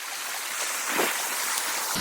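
Knee-deep water flowing strongly against someone wading through it, a steady rushing, gurgling wash heard close and alone.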